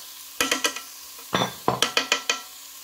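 A spoon clinks and scrapes in a bowl while mixing a minced chicken curry filling with mustard, a quick burst of short rhythmic knocks, close and clear, no speech.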